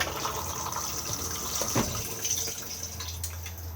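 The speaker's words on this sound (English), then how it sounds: "and then push to flush." Flush of a cassette toilet inside an Auto-Trail Tribute T715 motorhome, a steady close rush of running water for a few seconds with no voices.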